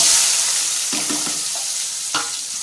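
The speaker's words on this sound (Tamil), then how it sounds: "அதே எண்ணெயில் வெந்தயம் போட்டுக்கலாம் செவக்கட்டுங்க இப்போ வெங்காயம் போட்டுக்கலாங்க" Onions hit hot oil that already holds fenugreek seeds, giving a steady sizzle with a few soft stirring scrapes, close and alone, while a fish curry is being cooked.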